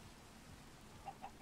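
A Minecraft chicken gives three short, faint clucks near the end, each a quick blip rising over a steady soft background hiss.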